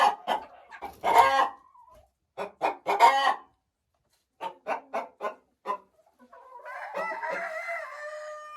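Hens cluck and a rooster crows inside a chicken coop, a run of sharp, separate clucks followed by a long, sustained crow that carries to the end, fairly close and clear with no talking.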